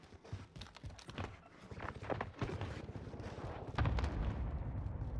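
Airstrike in the Call of Duty Warzone video game on Rebirth Island, a dense run of repeated booming impacts and crackling blasts that builds to a loud thump near the end, with faint chatter underneath.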